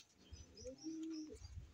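A racing pigeon, a distance bird, gives a close, low rolling coo that swells and fades over about a second, with faint rustling and a brief spoken murmur around it.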